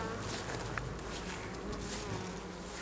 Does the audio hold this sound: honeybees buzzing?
yes